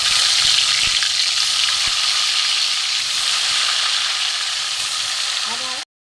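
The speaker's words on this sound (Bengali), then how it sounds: "এই মাছগুলো ভাজা হয়ে গেছে" Hilsa fish frying in hot oil, a steady loud sizzle and crackle that runs unbroken for several seconds with no talk, then cuts off abruptly.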